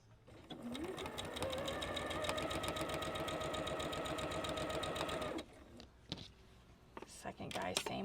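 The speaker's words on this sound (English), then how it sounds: "we're going to sew those onto the corners we cut off." A sewing machine stitches quilt pieces, joining fabric triangles onto the cut-off corners of a square, running steadily and loud for about five seconds before stopping, followed by quieter handling sounds and brief clicks.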